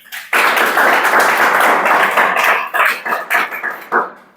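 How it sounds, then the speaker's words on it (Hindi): Students in a classroom burst into a sudden round of hand clapping, a dense close patter that holds steady, then breaks into a few separate claps before stopping. "ताली बजाओ।"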